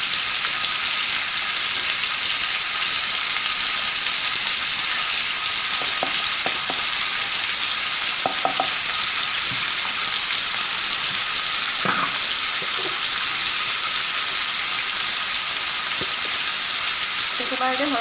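Turmeric and salt fry in a hot pan for paneer butter masala, a dense, constant sizzle with occasional soft clinks of stirring throughout.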